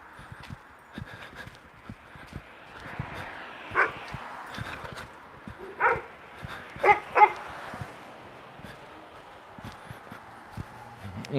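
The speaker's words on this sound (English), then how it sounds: "I think that dog is out." Outdoor nighttime dog barks come in scattered single and paired yelps, moderately loud and somewhat distant, over faint background noise.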